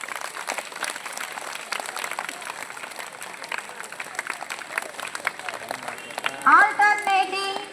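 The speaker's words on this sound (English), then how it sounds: "give them a big round of applause." Broadband clapping from a group runs through the whole stretch at a children's karate performance, with a voice talking over it and a brief higher-pitched sound near the end.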